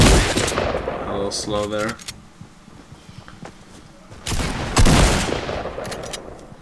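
Rapid automatic gunfire in the Fortnite video game, with bursts of shots near the start and again later, separated by a quieter stretch, under brief talk.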